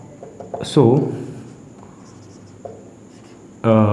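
Marker or chalk scratching on a board while working a matrix problem in a maths lesson, faint short strokes with a voice speaking in bursts between them.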